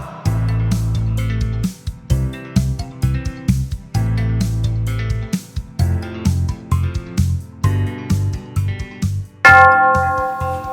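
Rhythmic music with a thumping low beat, then a single bright bell chime rings out near the end and lingers.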